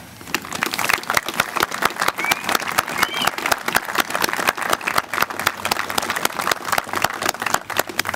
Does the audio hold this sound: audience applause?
yes